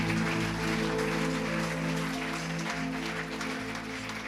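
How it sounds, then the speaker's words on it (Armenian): A church congregation applauds together, a dense continuous wash of clapping that holds steady for several seconds, close and full, with a hum of other sound beneath it. "Ամեն, եկեք բարձր ծափարենք Տիրոջը։"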